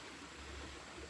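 Flowing stream water in a forest on a hill hike, a steady soft broadband rush, faint and continuous, with no voices.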